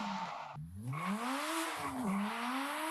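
A car engine revs and accelerates while sliding sideways in a drifting video game, its pitch swooping up and down alongside a continuous tire-squeal hiss, loud and close for the whole stretch.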